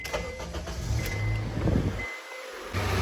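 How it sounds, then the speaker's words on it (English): A Honda CR-V engine cranks and starts after an oil change, a short starter whir followed by a brief gap and then a steady low idle, heard close in a quiet garage. "we're gonna go inside the car and crank it up"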